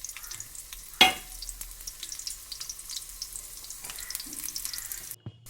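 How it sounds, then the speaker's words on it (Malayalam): Shallots frying in hot coconut oil: a sharp burst of sizzle as they hit the pan, then a steady, fairly quiet crackle and spit that continues alone, with no talking. "അപ്പോൾ ആദ്യം നമുക്ക് ചെറിയുള്ളി ഇട്ട് കൊടുക്കാം."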